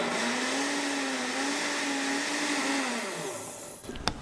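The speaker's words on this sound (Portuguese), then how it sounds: "A gente vai bater só para misturar os ingredientes." A kitchen blender runs steadily for about three seconds, whirring loudly as it mixes bread dough ingredients with a spoonful of added ingredient, then winds down and stops, leaving a faint clink at the end.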